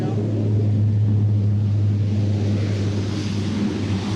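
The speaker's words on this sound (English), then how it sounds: "the vehicle engines will already be running at that stage" Land Rover engines idle and throttle up in a deep, steady rumble inside an aircraft hold, a continuous low drone filling the space with a voice talking over it.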